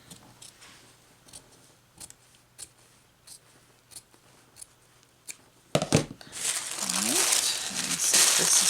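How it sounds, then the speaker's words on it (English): Scissors snip around a quilt applique outline in a series of quiet, regular crisp cuts, close by. A burst of loud rustling and handling noise takes over near the end. "I take my scissors and I just cut"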